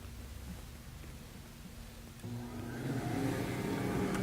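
A Foredom MADC20 dust collector with no hose attached runs at its low setting, a steady close whir of motor and airflow that rises in level midway.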